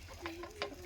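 Local farm chickens, one of about seventy hens, give a few faint, short clucks over a soft low background, spaced unevenly across a brief moment.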